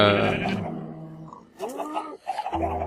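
Sheep bleating in Minecraft, a few wavering nasal bleats of varying pitch, fairly loud and close, following one another with short gaps.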